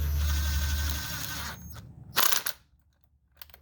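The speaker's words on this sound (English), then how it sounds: "if you want, you can put your drill on it" A cordless drill whirs for about a second and a half, spinning a spark plug home into the cylinder head of a 2009 Chevy Malibu, then stops, followed by a short clatter of tools nearby.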